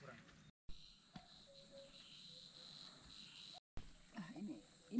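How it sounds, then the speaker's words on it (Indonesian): Cicadas and crickets chirp steadily on a forest trail up Mount Gede, a continuous high insect drone with brief gaps and occasional bird calls near the end. "Suara-suara burungnya, suara tongkeretnya,"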